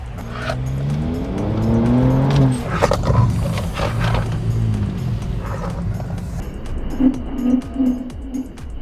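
A Honda City Hatchback fitted with TRW brakes brakes hard in a test, with loud tires squealing and wailing over engine noise, then a quieter stretch with a few short squeaks.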